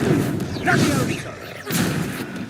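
A Levioso spell is cast in Hogwarts Legacy: two short whooshing magical bursts, each with a soft thump, close and fairly quiet, with a voice heard around them.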